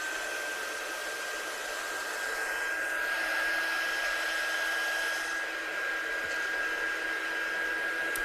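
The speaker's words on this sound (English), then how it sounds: "I'm just going to dry this with my gun so I don't get any fingerprints" A heat gun blows a steady, even whoosh while drying a handmade card, close and continuous with a faint high whine and no talk.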